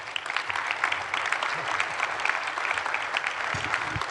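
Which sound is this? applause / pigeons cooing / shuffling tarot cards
applause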